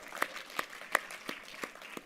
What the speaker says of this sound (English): I want to have a little round of applause for the back of the house